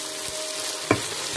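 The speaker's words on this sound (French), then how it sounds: "je passe directement à la friture de mon poulet" Chicken pieces sizzle and crackle in hot frying oil for Cameroonian poulet DG, a steady close fry with one brief louder spit or stir partway through.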